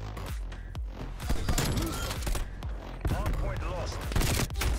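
Heavy shotgun blasts and scattered gunfire from a Call of Duty Cold War match crack repeatedly through a busy, loud soundscape, mixed with game effects and occasional talk.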